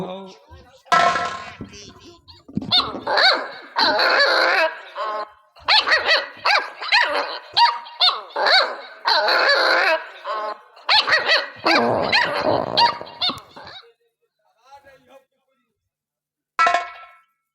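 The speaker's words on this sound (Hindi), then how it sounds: "कुत्ते भौंक रहे हैं।" Dogs bark in a folk nautanki stage show: a long run of rough, loud, overlapping barks and yelps in irregular bursts, close by, fading to a brief pause before one last bark.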